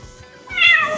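A cat meows once, loud and close, in a horse shelter. Faint low rustling comes before the rising, drawn-out call.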